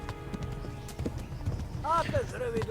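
Rhythmic clip-clop of a tiring horse's hooves running in the medieval game Kingdom Come Deliverance, steady beats under a brief whinny near the end, with someone talking over the gallop.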